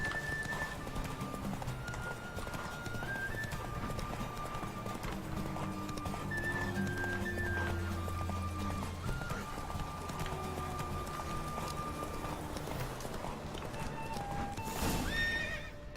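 Rapid hoofbeats of a galloping horse in The Witcher 3: Wild Hunt run throughout, with repeated neighs and whinnies over steady game background music.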